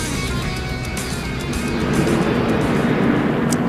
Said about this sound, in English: Got one of the jet blowers up on the banking of 1 and 2, trying to blow all the oil dry off